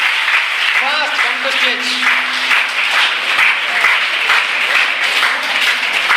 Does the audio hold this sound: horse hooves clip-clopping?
no